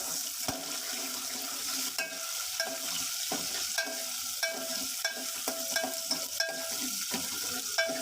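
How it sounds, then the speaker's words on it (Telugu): Chopped onions and green chillies frying in a pan of tempering for a meal maker tomato curry, a continuous sizzle broken by repeated sharp scrapes of a spoon stirring, close and without talk. "కట్ చేసి పెట్టుకున్న ఆనియన్స్, పచ్చిమిరపకాయలు వేసి బాగా కలుపుకోవాలి."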